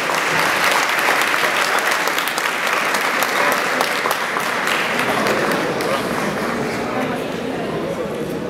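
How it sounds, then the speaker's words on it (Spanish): A large audience at a film industry panel bursts into loud, sustained applause that fills the room for several seconds, the clapping dense and even before easing slightly toward the end. "Demos un fuerte aplauso para el señor Arguido"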